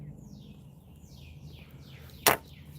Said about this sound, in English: open your windows and listen to the birds chirp